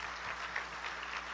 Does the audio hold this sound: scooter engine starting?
no